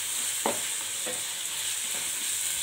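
Masala for chicken biryani frying in a pan, a steady close sizzle with a few soft stirring scrapes and no talking.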